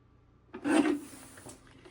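A single short rasping cut as a strip of scrapbook paper is trimmed, close and fairly quiet, about half a second long, followed by faint handling noises in an otherwise quiet room.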